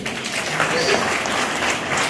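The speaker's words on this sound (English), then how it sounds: "So clap for your teachers again." An audience at a secondary school prefects' convention in Uganda's Eastern Region applauds teachers, a dense, sustained wash of clapping from a crowd with voices mixed in.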